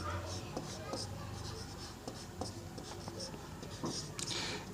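An equation is written by hand on a board in a maths class, with a steady run of faint scratchy strokes under a teacher's quiet talking.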